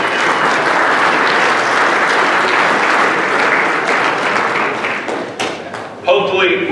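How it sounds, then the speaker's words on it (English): Loud, dense applause fills a scouting fundraiser luncheon hall, sustained and even before tapering near the end as a voice starts to speak over the fading claps. "Give yourselves a big round of applause for all this money we're raising."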